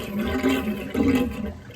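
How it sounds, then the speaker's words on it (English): Water drains through the overflow of a bathroom lavatory sink with the pop-up drain removed, a steady close gurgling rush that swells and sucks for under two seconds with no talk. "That's all the water being sucked through the overflow."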